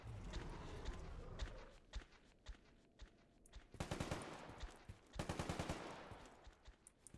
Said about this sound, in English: I just wasn't expecting the gunshots.